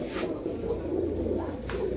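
A pair of jira-necked pigeons, a large male and a female of matching color, coo steadily with low rolling calls that overlap in a continuous murmur close to the listener.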